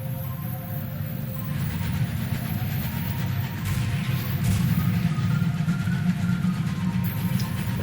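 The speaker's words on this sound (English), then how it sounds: "Yep, Her Majesty's locomotive" Steady low rumble and hum of a locomotive in Sunless Skies, loud and continuous throughout, with a faint rhythmic mechanical texture and no voices.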